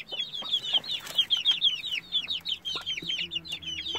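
Black Aseel hen with white chicks: rapid, high chick peeps run continuously, with the hen's low clucks mixed in, close by and without voices.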